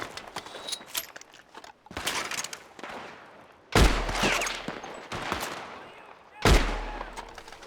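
Rapid bursts of gunfire in Red Dead Redemption 2 come in separated volleys, with two heavy, booming shots standing out among quicker crackling rounds.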